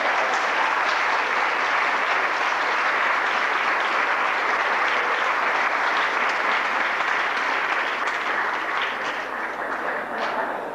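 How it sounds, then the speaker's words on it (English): A large audience claps steadily and loudly for about ten seconds, the applause holding even before tapering slightly at the end. "Can you give a round of applause?"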